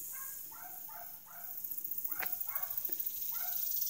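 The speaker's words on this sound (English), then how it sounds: "Y'all hear that dog barking?" Far-off dog barks repeat in short bursts against a constant buzz of insects, with a couple of sharp clicks nearby.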